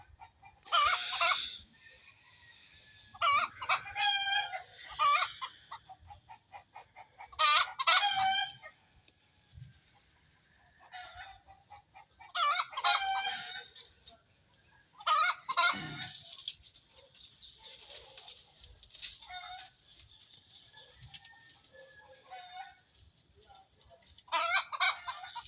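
An agitated chicken clucks and squawks in repeated loud, close bursts separated by short quiet gaps across the stretch.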